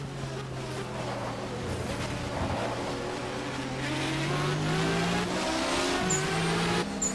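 A race car in the GTR2 racing game leaves the pits and drives around the Autopolis track. Its engine drones steadily close by, the pitch sliding up through the gears, and brief tire squeals come near the end.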